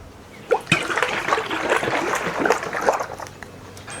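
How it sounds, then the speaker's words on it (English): Coconut milk being poured into a Vitamix blender jar, a close liquid stream and trickle that begins with a small clunk and runs steadily for a few seconds before tapering off, no speech. "What we're gonna do is add the coconut milk first."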